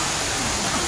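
The indoor waterfall at Jewel Singapore splashes and sprays in a loud, steady rushing roar that fills a brief moment close by.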